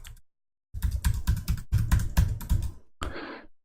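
Credit card digits typed on a computer keyboard, with quick clusters of crisp keystrokes broken by short pauses and ending in a heavier key press, close and clear.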